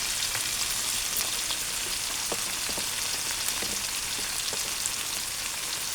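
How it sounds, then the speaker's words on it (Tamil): Squid masala sizzles steadily in hot oil with ginger-garlic paste, crushed pepper, cumin and garam masala, a constant close crackle with occasional small pops and no talk. "வதக்க வதக்கி விட்டுருக்கோம் எண்ணெயிலே"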